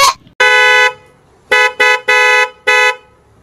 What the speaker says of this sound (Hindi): हॉर्न तो बज गए, हॉर्न लग गए, बजा के चेक करते हैं।